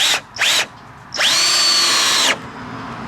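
Power drill driving screws into raised bed planter boards: two short whirring bursts followed by a longer, steady run of about a second, loud and close, with no voices.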